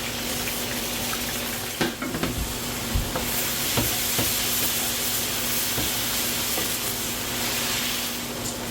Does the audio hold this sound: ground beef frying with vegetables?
yes